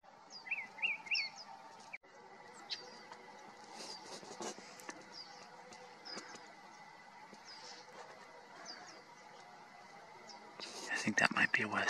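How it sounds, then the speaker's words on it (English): A northern mockingbird singing outdoors in San Diego County, with bright, varied chirps and phrases that are strongest at the start and recur more faintly. Quiet, whispered talk runs underneath, and there is a louder rustle at the end. "It's a northern mockingbird."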